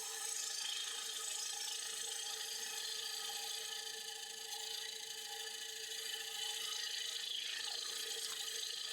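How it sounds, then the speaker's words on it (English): A wood lathe turning a hard maple platter, with a tool cutting steadily into the spinning wood in a continuous, fairly quiet scraping rasp and whirr, alone and without talk. "So I'm going to keep turning away wood until that hole disappears."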